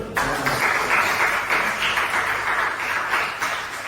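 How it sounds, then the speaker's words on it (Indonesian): A classroom of students claps hands together in brisk, fairly loud bursts that rise after a short pause and keep going to the end. "kita tepuk tangan dulu"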